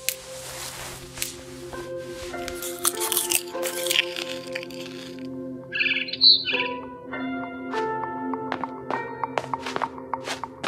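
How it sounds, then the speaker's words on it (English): A barn swallow chirps and twitters in the video game What Remains of Edith Finch, a run of bright, clear calls at close range over a soft musical background, with one sharper burst midway. "Then I heard chirping outside my window."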